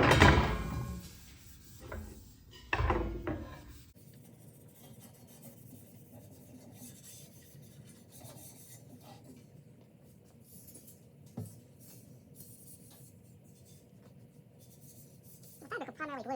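Abrasive scuffing on the elevator hinge of a Carbon Cub EX3 before fabric covering: a few loud, close rasping strokes in the first seconds, then quiet room tone with a faint scrape near the end.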